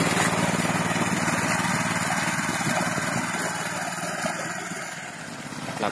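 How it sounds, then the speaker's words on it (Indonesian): A super-mini 900cc horsepower tractor engine running in a village near Bogor, a loud, steady, buzzing drone that holds at an even level throughout with no talk over it. "Traktor mesin ini bertenaga kuda."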